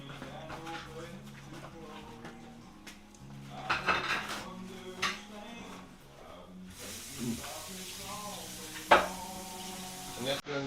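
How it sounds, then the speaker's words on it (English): Dishes being washed in a home kitchen, with pots, plates and cutlery clanking in scattered knocks alongside running water and faint voices. "that's doing the dishes now"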